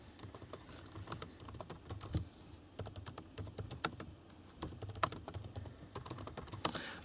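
Typing on the keyboard of a Lenovo IdeaPad 110-15ISK laptop, shallow, hard-pressing keys giving a steady run of close, crisp clicking keystrokes with irregular rhythm and no voices.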